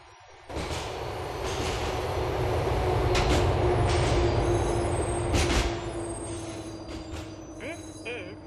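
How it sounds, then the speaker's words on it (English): A subway train in GTA IV pulls into North Park Station in Liberty City with a sudden loud rumble, a steady rolling roar of wheels on rails, and squealing brake tones that fade gradually as it slows. "The train is approaching North Park Station."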